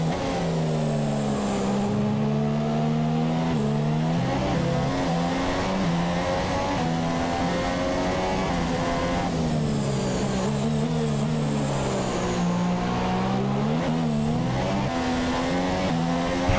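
Formula 1 race car engine in the F1 2017 video game at the Bahrain Grand Prix in Sakhir, a loud, continuous high-revving whine rising and falling through gear changes for the whole stretch, with no talking over it.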